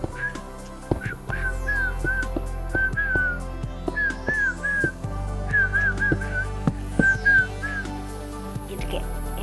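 A person whistles a short, wavering tune in repeated phrases, close and clear over a steady droning background.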